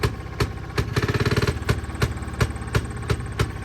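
A Fairmont pop car engine runs close by at a fast, steady idle, its regular firing pulses briefly quickening as the throttle is opened and then settling back to a rhythmic chugging.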